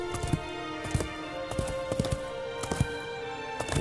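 Horse hooves clip-clop in the video game Shadow of the Colossus, a steady walking rhythm of crisp hoof taps over a sustained tonal music or ambient bed.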